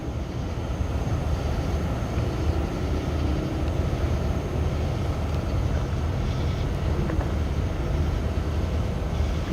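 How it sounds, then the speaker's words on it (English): Airplane flying high overhead outdoors in Stockbridge, Georgia, a steady, continuous low roar that stays even throughout with no voices over it. "Look at that airplane way up there."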